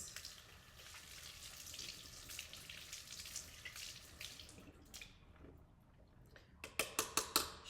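Tap water runs steadily over a palette knife as leftover paint is rinsed off, making a soft hiss with splashes. It breaks off briefly, then sharp drips and spatters come in a quick rhythmic series, close and quiet.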